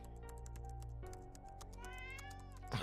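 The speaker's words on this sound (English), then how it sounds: "Let me pet the cat." A cat meows in the video game Absolute Cinemaniac, a single drawn-out, rising meow heard close and clear over a steady game music bed.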